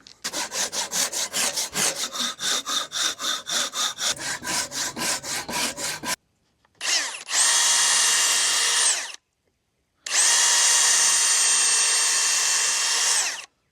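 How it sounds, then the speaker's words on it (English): Metal stock for garden shear handles, held in a vise, is cut with rapid, rhythmic back-and-forth sawing strokes, then two long continuous grinding cuts separated by short silences, loud and close. "I'm gonna put it in my vise and start cutting it up."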